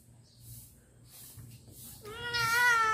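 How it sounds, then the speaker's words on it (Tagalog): Two pet cats meow, starting as faint low sounds, then one loud drawn-out close meow rising near the end. "Dalawang miming namin yan na nagpadidi."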